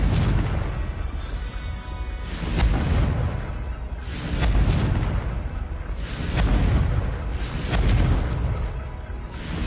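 Confringo blasting spell from Hogwarts Legacy, a series of loud booming explosions rolling in at roughly two-second intervals over a constant heavy rumble, with no voice over them.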